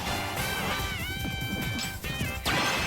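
Loud crashing smash hits from a Super Smash Bros. match, layered with bright tonal game effects and a horse-like whinny sound, dense and continuous over a few seconds.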